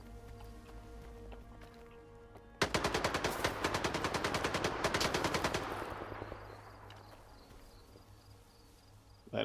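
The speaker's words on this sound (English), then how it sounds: "he is shooting" Rapid automatic gunfire in the STALKER shooter game, a sustained loud burst of machine-gun shots in quick rhythm lasting several seconds before tapering off into a fading echo.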